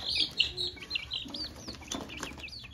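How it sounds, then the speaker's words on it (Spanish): Ten criollo-breed baby chicks peep in a steady stream of high, thin chirps close by, with overlapping calls coming in quick bursts and no talking. "acá tengo mis 10 pollitos"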